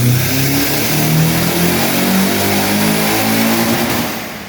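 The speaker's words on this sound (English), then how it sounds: "So we went out and put it on the dyno." A 1993 Nissan 240SX engine revs hard and steadily at high load on a dyno, a loud continuous roar with rising and falling pitch that eases slightly near the end.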